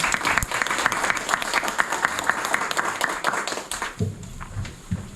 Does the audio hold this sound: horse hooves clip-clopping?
no